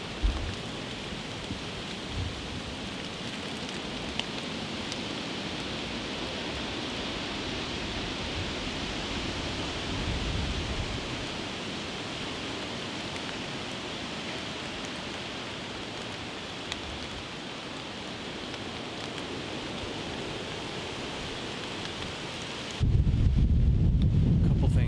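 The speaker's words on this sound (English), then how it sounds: "This wind cuts through you." Strong steady wind, around 30 mph, roars through Illinois woods as a continuous broadband rush, with a sharper, louder burst near the end.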